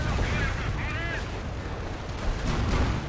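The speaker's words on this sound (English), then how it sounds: "Five rocket barrage up here" A five-rocket artillery barrage in Company of Heroes 1, dense booming and crackling blasts rolling continuously without a break over a steady battle din.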